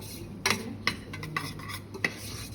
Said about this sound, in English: You just keep stirring that brown into